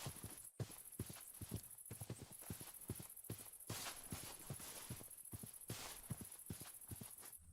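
Horses in the video game Minecraft walking nearby, a steady run of hollow clip-clop hoof steps at close range over a constant high-pitched background tone, with no talking.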